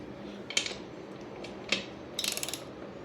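DEWALT ratchet from a 168-piece mechanics tool and socket set loosening a 17 mm metric bolt: a few separate ratcheting clicks, then a quick run of close, sharp pawl clicks over a faint background hum.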